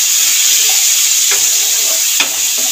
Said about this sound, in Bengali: একটুখানি নাড়িয়ে ভেজে নেব টমেটোটাকে, যাতে সেদ্ধ হয়ে যায়।